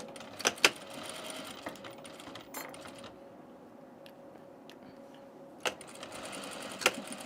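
A sewing machine stitches a tunic belt in open-weave fabric with a small stitch length, a quiet continuous mechanical whir punctuated by a few sharp clicks and clacks, with no one talking.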